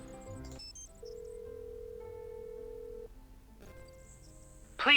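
A telephone tone from the Nancy Drew game Trail of the Twister: a steady, sustained electronic tone of about two seconds, with faint chimes before it and a short burst at the end.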